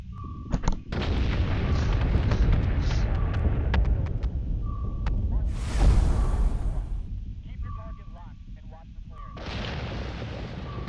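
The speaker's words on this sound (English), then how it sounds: "my long-range guns are smacking at something" Long-range ship guns firing in a space strategy video game, with dense rolling booms and a steady barrage of cannon blasts, loud and continuous, plus a few sharper bursts and a whooshing swell partway through.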